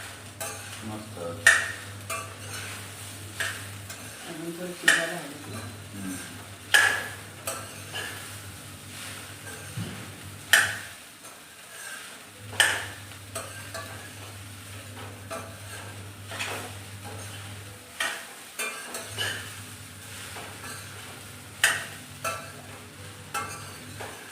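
Sabudana khichdi being stirred in a pan, with repeated scraping clicks of a spoon against metal over a steady low hum and a soft sizzle, fairly close and regular.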